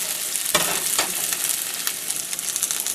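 Onions sautéing in a pan, a loud, dense, continuous sizzle with a few sharper stirring scrapes near the start, close and without speech.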